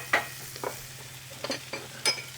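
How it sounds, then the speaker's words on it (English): Beans being mashed in a pot while they cook: scattered soft scrapes and taps of a utensil over a faint sizzle, quiet and close, no speech. "So we're going to mash up some of the beans and leave some of them whole while we're cooking the rest of"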